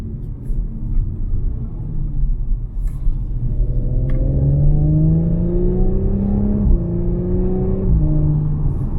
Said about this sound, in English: All's forgiven when you put your foot down and smash that throttle.